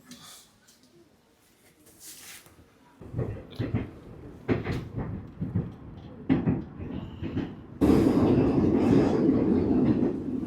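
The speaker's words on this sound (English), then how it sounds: "Crowded train." A crowded Kyiv metro train rumbles and clatters along the line, a quiet start giving way to rhythmic clacks and bursts, then a loud sustained roar near the end, with faint talk and station sounds.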